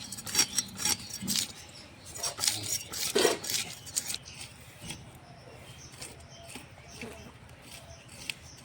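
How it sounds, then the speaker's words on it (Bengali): Raw plantain and potato are cut in a home kitchen, with a run of quick, close knife clicks and scrapes that come in bursts and then thin out, while voices are heard in the background. "মা মাছটা কেটে নেবে, আমি আলু আর কলাটা কেটে নেব।"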